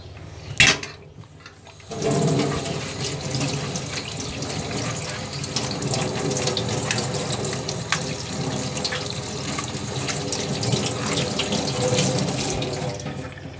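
A leek being rinsed under fresh cold water from a kitchen faucet, with a short clatter first, then a steady loud stream splashing into the sink for about twelve seconds, no talking.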